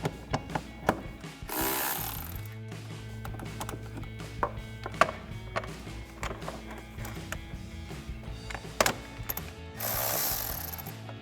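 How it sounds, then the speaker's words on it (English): A 10mm socket ratchet loosens a hose clamp and removes a bolt on a car's cold air intake, giving a close series of clicking ratchet strokes and sharp metallic knocks, with bursts of brighter rustling near the start and end. "Next we can take a 10mm socket to loosen up our clamp as well as remove this bolt."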